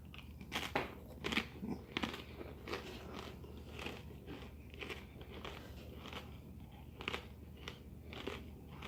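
A cracker spread with butter from a Russian RPMK six-man ration is crunched and chewed close up, a quiet string of crisp bites and crackles repeating unevenly over several seconds.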